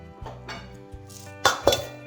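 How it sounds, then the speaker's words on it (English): A tomato cucumber salad stirred in a bowl with a utensil, giving a few quiet scrapes followed by two louder clinks of metal against the dish near the end. "Give that a stir."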